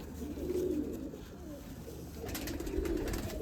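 Pigeons coo softly on a rooftop in Amritsar, two low, rolling coo phrases a couple of seconds apart, faint and fairly close over quiet outdoor ambience.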